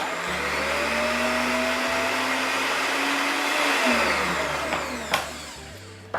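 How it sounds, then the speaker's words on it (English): A blender whirs loudly while mixing a raw food Asian marinade, its motor droning in steady bursts that briefly dip and restart before cutting off near the end. "Blender on, are you ready?"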